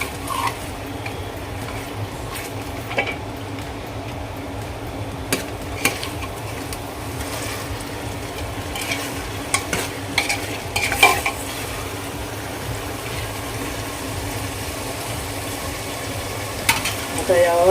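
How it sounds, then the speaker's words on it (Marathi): Salt being stirred into chicken in a pot for Agari-style chicken rassa, a continuous close sizzle with repeated spoon scrapes and occasional utensil knocks against the pot throughout. "आता हे व्यवस्थित मीठ हे सर्व याच्यामध्ये मिक्स करून घेऊया चिकनमध्ये"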